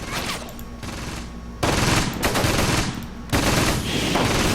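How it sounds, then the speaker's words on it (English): Machine gun fire in the WWII strategy game Close Combat, heard as sustained loud bursts of rapid shots in three dense volleys with brief lulls between them, no voices. "there is a machine gunner right there making it very hard for us to get any closer"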